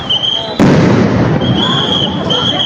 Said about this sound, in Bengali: আমরা দেখছি এই মুহূর্তে সাউন্ড গ্রেনেড নিক্ষেপ করা হচ্ছে, একটি সাউন্ড গ্রেনেড নিক্ষেপ করা হয়েছে